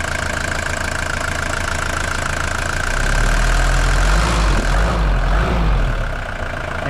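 A Mercedes W123 engine idles after a fuel filter replacement, a steady close rumble that deepens and grows louder midway, then eases slightly at the end.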